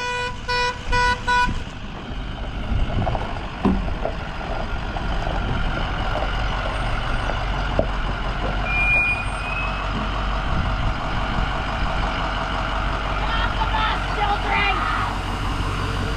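School bus engine idling loudly with a rumbling low drone, short horn-like toots at the start and faint beeping later, while people talk over it.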